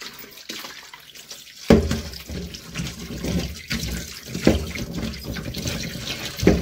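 Tap water runs and splashes in a sink while raw chicken is washed by hand, with irregular sloshing and dripping close by.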